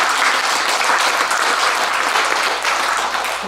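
An audience claps steadily at a Buddhist Dharma talk, a dense, even wash of applause sustained loudly and close throughout with no voices rising above it.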